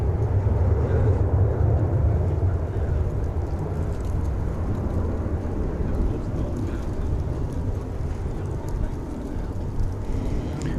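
An Airbus A319 airliner at DFW Airport produces a loud, steady broadband roar with a deep low rumble that holds for the whole stretch and eases only slightly toward the end.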